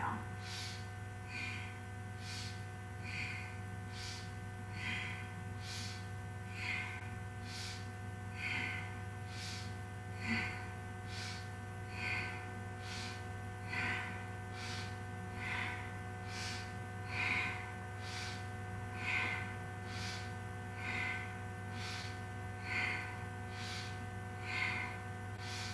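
Steady rhythmic yoga breathing during a Kundalini Yoga session: quick, regular inhales and exhales through the nose repeat about every second and a half, close to the microphone, over a low constant hum.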